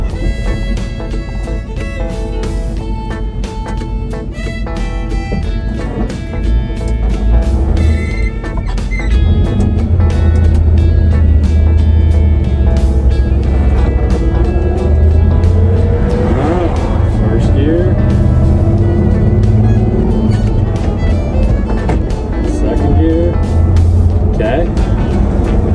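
An abandoned old Chevy squarebody pickup truck, brought back after 23 years, idles and then revs as it drives. The engine rumbles loud and close throughout, with people talking over it.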